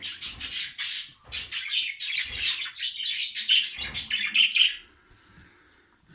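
Budgerigars chirp and twitter in quick overlapping bursts close by, including three chicks, a busy flock chatter that fades to near quiet at the end.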